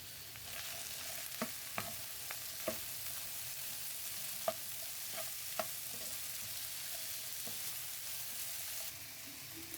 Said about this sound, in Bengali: তারপর আমি আলুগুলা দিয়ে দিচ্ছি।